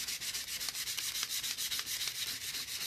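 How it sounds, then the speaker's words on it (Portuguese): Light hand sanding with fine 400-grit grey sandpaper over a varnished napkin decoupage on a box, a quick steady back-and-forth rubbing rasp, close and fairly soft, with no talking. "lixando em cima do guardanapo."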